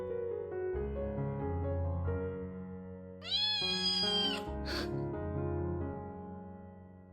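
A kitten meows once, a clear high, drawn-out cry that stands out against a steady background hum, followed by a shorter second squeak moments later.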